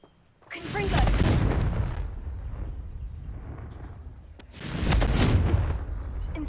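A fire-blast spell detonating in a wizarding video game: two loud, booming explosions with rumbling, roaring tails that fade between them, close and dominant.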